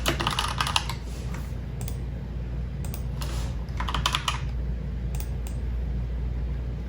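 Rapid bursts of typing on a computer keyboard, with clustered key clatter and short pauses between runs over a steady background hiss.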